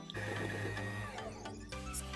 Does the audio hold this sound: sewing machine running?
yes